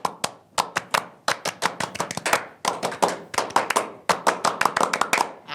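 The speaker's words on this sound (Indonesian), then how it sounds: "Oke, 2 kali tepuk pramuka." A small group performs the Indonesian Scout rhythmic clap (tepuk pramuka) twice in a row, crisp, close hand claps in a patterned sequence of quick bursts and pauses, repeated identically, with no talking.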